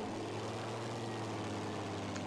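Propeller bomber drone in a flight combat video game, a steady low engine hum with a buzzing airscrew tone, continuous and fairly loud with no talk over it.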